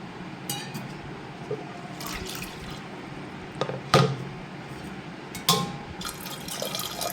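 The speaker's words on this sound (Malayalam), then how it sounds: "ആവശ്യത്തിനുള്ള വെള്ളം ഇത് വേകാൻ ആവശ്യമായുള്ള വെള്ളം ഒഴിച്ചു കൊടുക്കുന്നുണ്ട്" Water poured into a pressure cooker pot holding carrots for a milkshake, a continuous liquid splashing with sharp clinks of metal and glass breaking through now and then, close and moderately quiet, with no talk.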